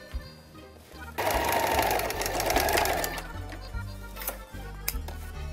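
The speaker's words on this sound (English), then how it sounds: "You pin this black down so it gives you more support when you sew over it." A sewing machine runs close up, stitching black fabric pinned onto a sleeve in a steady rapid whir for a couple of seconds, then slows to a few short ticking bursts; a voice speaks quietly underneath.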